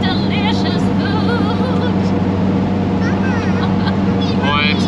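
Steady engine drone and road rumble fill a car's cabin on a Nullarbor road trip, loud and constant, while people chat over the noise.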